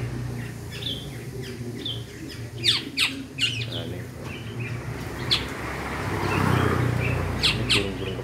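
Black-naped oriole calls ring out close by, several clear whistled and squawking notes scattered over a steady low background hum.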